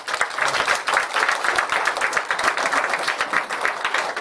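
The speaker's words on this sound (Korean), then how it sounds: "우리 하나님께 영광의 박수 올립니다." A church congregation at a Sunday service applauds, a dense, steady wash of many hands clapping that runs unbroken through the whole stretch with no talking.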